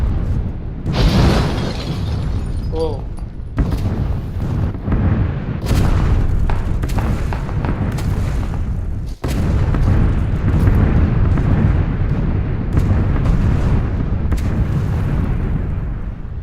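PUBG red zone bombardment in a video game brings heavy, repeated explosion booms with rumbling low-end blasts and debris-like crackle, loud and continuous with little pause.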